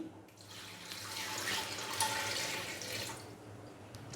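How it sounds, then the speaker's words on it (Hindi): One to two glasses of water pour steadily into a metal pressure cooker over beef for biryani for a few seconds, a continuous splashing rush that swells and then eases off, with no voices. "अभी मैं इसके अंदर डाल दूंगा 1 से 2 गिलास पानी"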